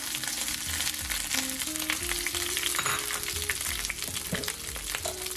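Grated coconut and curry leaves fry in a pan, giving a continuous close sizzle with occasional stirring scrapes and faint background music running underneath.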